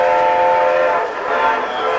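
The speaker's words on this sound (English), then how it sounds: "There's that blue and white train over there." Blue and white replica Orient Express train passing, a loud sustained rumble of rail wagons with a horn-like tonal blare over it, close by and continuous, with no talk.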